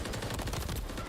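Dense gunfire and explosions rattle through a competitive multiplayer video game match, a loud, rapid, overlapping burst of shots with no clear pauses.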